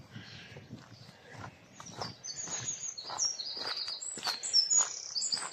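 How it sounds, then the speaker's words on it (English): Birds call and chirp at a marsh where a cuckoo is present, bright whistled notes rising in number toward the end over soft outdoor background noise. "Just seen another cuckoo up there."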